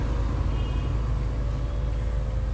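A Mahindra XUV500 W10 SUV drives along, heard from inside the cabin as a steady low engine and road rumble, continuous and even, with no talking.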